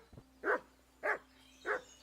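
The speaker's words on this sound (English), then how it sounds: "Alright, doggy's upset about something." A dog in Kingdom Come: Deliverance II barks three times at a steady pace, moderately loud and fairly close, over a faint low hum, with no talk.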